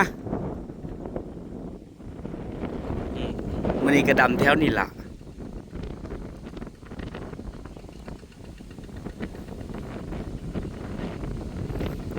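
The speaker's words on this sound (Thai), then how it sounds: "พายุลมมาแล้ว" Storm wind sweeping across open rice fields in the Thai countryside just before rain. Gusts buffet the microphone, with a strong surge midway, while someone talks over the rushing wind.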